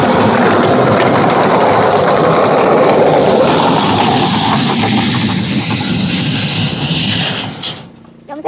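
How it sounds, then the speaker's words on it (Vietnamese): A train rumbles past nearby, a loud continuous roar of wheels and rattling cars lasting several seconds before cutting off sharply into quiet. "Xe lửa chạy quá ha."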